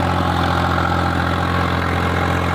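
A New Holland 3630 4x4 tractor engine runs steadily at a low, throbbing idle, loud and close, with no voices, while sowing wheat with a super seeder.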